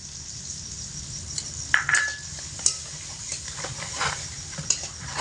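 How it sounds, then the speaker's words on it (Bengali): A spice paste goes into a pan of softened, cooking tomatoes and gets stirred, giving scattered light scrapes and clinks of utensil on pan over a faint low sizzle. "এই মতো অবস্থায় যে মশলাটা আমি গুলে রেখে দিয়েছিলাম সেটা দিয়ে দেব।"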